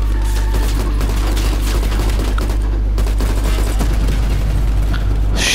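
Heavy gunfire in the Call of Duty: Black Ops Cold War campaign: loud, close, sustained bursts of shots layered over a constant low rumble, with a sharp blast near the end and no voices.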